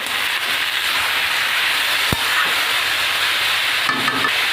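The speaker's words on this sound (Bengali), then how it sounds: "এটাকে এবার ভালো করে আমি ভেজে নেব।" Vegetables frying in a pan with salt, turmeric and green chili, giving a steady close sizzle with faint stirring clicks and one sharp utensil knock.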